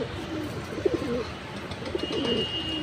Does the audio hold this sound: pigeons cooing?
yes